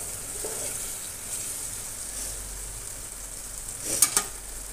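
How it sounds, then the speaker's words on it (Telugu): Ivy gourd pieces frying in a pan with coconut chili powder, onion and garlic, a continuous close sizzle with a couple of brief sharp stirring clinks toward the end. "వేసుకున్న తర్వాత అవి బాగా ఫ్రై అవుతుంది కదా"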